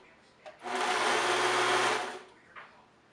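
A serger stitches a rolled hem along kimono-style beach cover-up fabric in one steady, fast whirring run of about a second and a half, close and loud, with faint handling clicks before and after.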